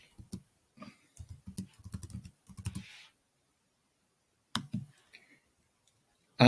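A computer keyboard is used to type a password, producing a quick run of close, crisp key clicks in short bursts, a pause, then a few more taps, with no talking.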